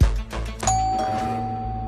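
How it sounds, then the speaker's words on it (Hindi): A doorbell chime rings once and holds as a sustained tone over a low hum of room noise in a house, in a crime drama scene. "कि 12:45 को डोरबेल बजी?"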